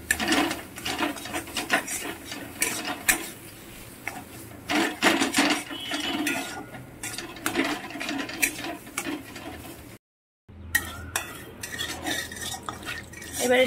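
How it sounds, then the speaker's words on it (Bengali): Spiced vegetable filling with turmeric being mixed for sandwiches, with close, irregular scraping and rasping of a utensil against the pan, broken by one brief silent gap and no speech. "এটা ভালো করে মিশিয়ে নিচ্ছি"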